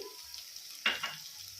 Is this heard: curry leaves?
yes